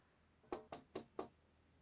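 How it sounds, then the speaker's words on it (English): Four sharp knocks on a door in the video game Syberia: The World Before, struck in an even, quick rhythm, close and clear against a quiet background. "There's no point drumming on the blasted door."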